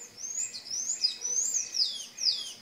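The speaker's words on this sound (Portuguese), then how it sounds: "Os passarinhos tão doidinhos para chegar aqui para comer a fruta do sabiá." Small birds chirp around a fruit-laden sabiá tree, a close run of quick, bright, sliding tweets repeating over a quiet background with no talking.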